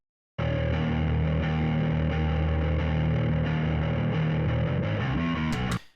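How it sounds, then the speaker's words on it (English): A clean bass guitar plays loud, sustained low notes for several seconds, then cuts off abruptly. "so this is the bass with no effects."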